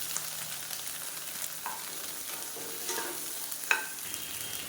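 Small onions and tomato halves sauté in a pan for spicy chutney, a steady soft sizzle with occasional stirring scrapes and a brief sharper clink near the end, close and without speech.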